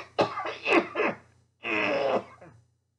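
Two bursts of coughing and throat clearing from a person close by outdoors, a quick rough pair followed by a longer harsh cough, with a steady low hum underneath.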